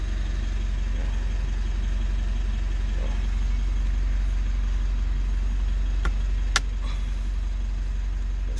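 A 3rd generation Mitsubishi Montero Sport idles after two months of sitting, its engine a steady, close rumble with no talk, broken by two sharp clicks late on.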